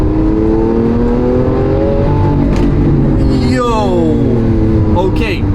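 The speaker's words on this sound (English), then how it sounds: "Oh, there's that V12. Oh, nice pops." Lamborghini Aventador S V12 engine revving hard from inside the car, rising and falling harmonic roar with a couple of sharp exhaust pops near the end, loud and close, with a driver's excited voice talking over it.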